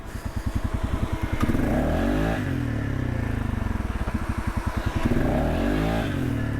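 A 450 ATV fitted with 29.5-inch Highlifter Outlaw tires revs hard, its engine pulsing in loud, labouring bursts that rise and fall repeatedly as it struggles to pull the heavy tires, close up and without talk.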